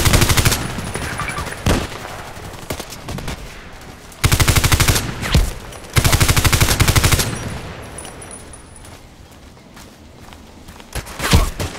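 Rapid automatic gunfire in the video game Contract Wars with a Colt IAR rifle, loud dense bursts repeating in several volleys separated by quieter stretches with footsteps.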